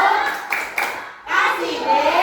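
Children in a classroom doing a clapping routine, a few sharp group claps followed by a sustained stretch of hands and voices together, with children's speech mixed in.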